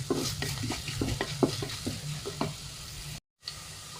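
Cumin and fennel seeds fry in oil with a close crackling sizzle, punctuated by rhythmic stirring scrapes, then a sudden brief dropout of sound before it resumes.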